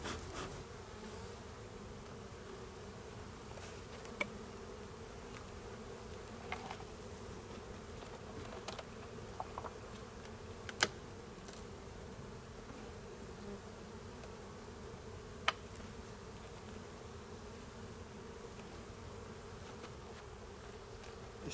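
Honey bees hum steadily around hives during a winter inspection, a continuous close buzzing drone with a few faint knocks and clicks scattered through, no voices.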